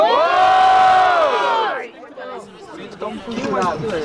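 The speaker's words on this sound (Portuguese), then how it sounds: "Muito barulho pras rimas do Mota" A loud crowd at a street rap battle cheers and shouts together, then the roar breaks into scattered voices, whoops and chatter continuing close by.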